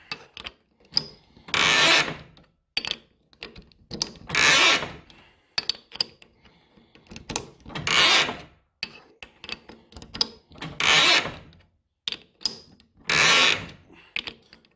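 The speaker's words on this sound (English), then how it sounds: "There will be some thread cutting on the way back out" A lathe cuts a thread on a tailstock knob in repeated passes, each a loud, broad grinding burst of a couple of seconds separated by quieter gaps with small clicks and mechanical knocks, heard close with no talking.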